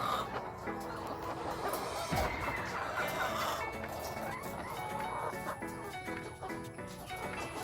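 Hens kept for egg production cluck steadily and close by in a busy coop, overlapping calls with scattered rustling and no clear talk.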